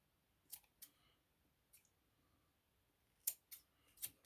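Scissors snip through quilt fabric while trimming bulk from the corners of a Christmas quilt, a few quiet crisp clicks in two small clusters against a near-silent room.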